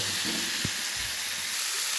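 Steady sizzling of potatoes frying with spices in a hot pan over a high gas flame, with a brief stir or clatter partway through.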